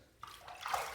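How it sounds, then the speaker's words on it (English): A razor is briefly rinsed under running water, a soft, short splashing hiss that swells toward the end, alone and fairly quiet. "Let's rinse."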